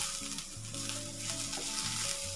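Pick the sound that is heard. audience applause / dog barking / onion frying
onion frying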